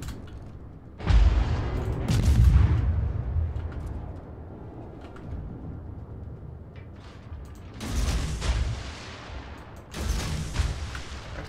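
Naval guns firing in a video game, the Shenyang and Nicholas ships with 51Mk7 guns, heard as heavy booms in separate bursts near the start and again around the middle and end, over a steady rumbling background.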